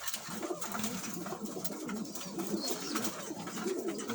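Van pigeons coo softly and continuously in a loft, with several birds' low, rolling calls overlapping at close range.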